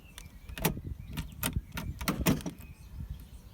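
A Rover SD1 door lock driven shut by its central locking unit, with low grinding motor rumble and several crisp mechanical clacks as the latch catches inside the door, close and moderately quiet.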